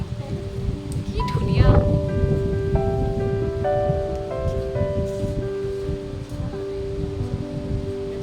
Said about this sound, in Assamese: আৱাজ শুনিছনে হেৰি বতাহ জাকৰ